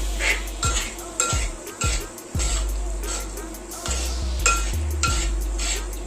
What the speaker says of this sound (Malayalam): ഇളക്കി മിക്സ് ചെയ്യണം